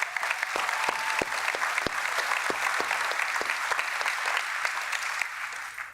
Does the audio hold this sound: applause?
yes